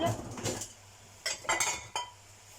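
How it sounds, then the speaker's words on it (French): A metal saucepan clanks and clinks as it is picked up and moved about in a kitchen, a few scraping knocks close by with no speech. "Et je prends une casserole."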